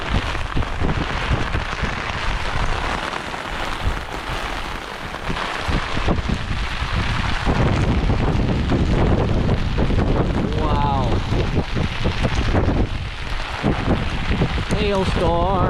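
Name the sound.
hail falling in the mountains, wind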